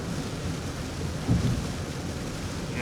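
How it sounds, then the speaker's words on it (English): Steady, dense rain hiss fills the clip, with a brief low rumble near the middle, continuous and fairly close. "It's raining."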